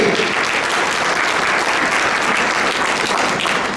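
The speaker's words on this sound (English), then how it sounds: "Give a round of applause for Brother Sayyid." Dense, steady applause from guests at an inaugural restaurant fundraising dinner, a continuous wash of many hands clapping throughout at fairly close range.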